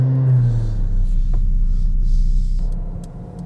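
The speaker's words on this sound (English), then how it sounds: "That's the first time I'm starting a Mercedes." A small Mercedes car engine starting, with a brief starter whir followed by a low steady idle rumble that fades slightly at the end.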